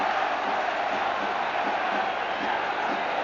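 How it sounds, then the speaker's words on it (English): Steady roar of a football stadium crowd at a 1991-92 UEFA Cup quarter-final first leg, Genoa against Liverpool, swelling as a corner is taken: dense, continuous crowd noise with no single voice standing out. "Increase in volume from the crowd."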